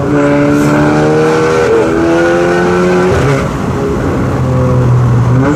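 A stage 3 tuned car accelerating hard, the engine note climbing in pitch through rising revs with a brief dip as it shifts, then climbing again; loud, close and continuous, with no talking.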